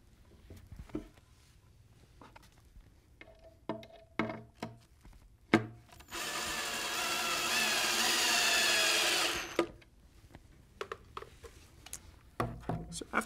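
A drill drives a screw into a wooden board while a mid-century modern TV stand is assembled: one loud, steady whirring burst of about three seconds, with scattered knocks and handling taps of the wood before and after.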